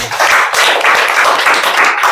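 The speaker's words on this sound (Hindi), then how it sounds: "हम सभी से अनुरोध करते हैं कि ज्योतिबा बाई फुले के लिए एक जोरदार ताली बजाएं" An audience at a school Teacher's Day program applauds for Jyotiba Phule, with dense, steady clapping from many hands throughout.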